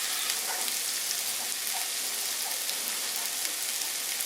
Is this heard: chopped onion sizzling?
yes